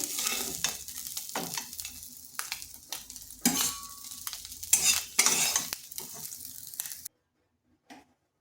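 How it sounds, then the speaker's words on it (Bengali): Fried morala fish being lifted out of hot oil in a pan, with steady sizzling and scraping, stirring clatter that stops abruptly near the end, followed by a brief faint knock. "এদিকে মাছটাও ভাজা হয়ে গেছে, মাছটাকে তুলে নিচ্ছি।"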